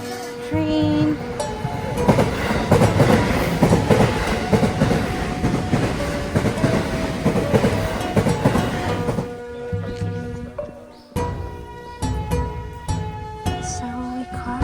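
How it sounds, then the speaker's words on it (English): A train passes near the Arashiyama bamboo forest in Kyoto, its wheels clattering loudly and steadily on the rails close by before the sound thins into ringing, tonal tones. "Train."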